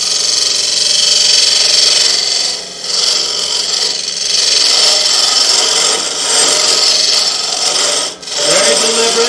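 A woodturning tool hollows a wooden hollow form spinning on a lathe, a loud, continuous close-up rasp and hiss that briefly dips twice as the cut pauses, then resumes at full strength.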